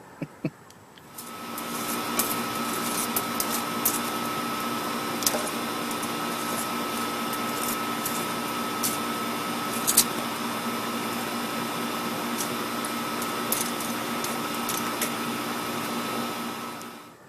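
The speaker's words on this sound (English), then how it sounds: "First time I ever used that blower, it's got a lot of power." Powerful blower pushing air onto charcoal in a grill, a loud continuous droning roar with a steady hum, holding for about fifteen seconds with occasional small clicks and pops.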